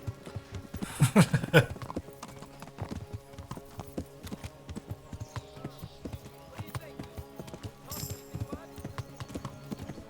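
In the video game Kingdom Come: Deliverance, horse hooves clip-clop in an uneven gait, with a louder burst early on and softer steps after. A voice talks over parts of it.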